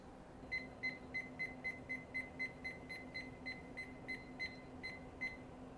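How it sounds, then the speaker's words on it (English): A kitchen timer set for bread baking beeps in a quick, even series of short high-pitched tones over a low background hum. "set your alarm for 40 minutes."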